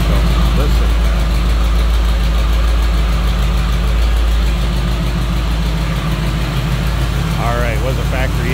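A 1971 Chevrolet Nova with a 350 V8 and dual exhaust idles close by. The low rumble is steady and loud throughout, with brief faint voices near the end.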